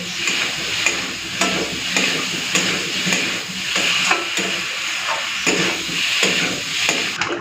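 Spiced taro and potato sauté in a pan with turmeric, Kashmiri red chili and a little sugar for pomfret curry, giving a steady sizzle broken by repeated scraping stirs close up.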